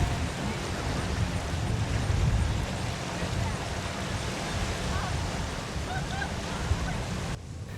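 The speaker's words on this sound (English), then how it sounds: "Notice how smooth the boat runs through waves and wakes." A boat equipped with Nauticus SmartTabs SX trim tabs runs through waves and wakes, producing a continuous, loud rush of water and wind with no clear breaks throughout.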